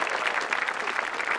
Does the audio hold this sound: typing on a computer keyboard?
no